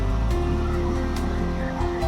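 Sea waves wash against the side of the long rampart wall of Revdanda fort near Alibaug, a steady rumbling surf with a low roar and wind-like hiss throughout.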